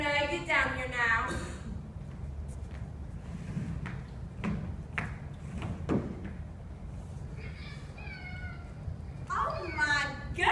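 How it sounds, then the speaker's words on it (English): Meowing from a pregnant cat close to giving birth, heard at the start and again near the end with thumps and clatter between, alongside voices and a noisy indoor background. "It's a cat that's about to have kids"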